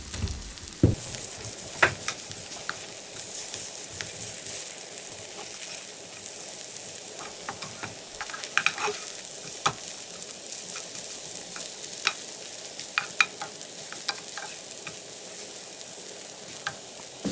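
A Korean pancake fries in oil in a pan over high heat, giving a continuous close sizzle scattered with small pops and crackles.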